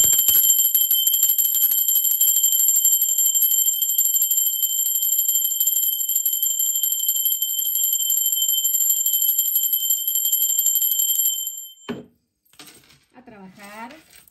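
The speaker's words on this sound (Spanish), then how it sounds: "va la campana" A bell sound effect rings in a steady, bright, sustained tone for about eleven seconds, then cuts off and a voice begins talking.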